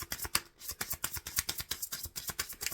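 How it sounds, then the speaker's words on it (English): Tarot cards are shuffled in a quick, even run of soft riffling slaps, about a dozen rapid strokes close by and fairly quiet, with no talking. "Shuffling for a concluding message."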